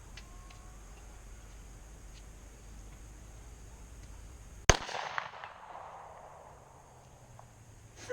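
One Glock pistol shot, a Glock 43 or Glock 19, fired outdoors at target practice: a single loud, sharp crack breaks the quiet and rings out in a fading echo.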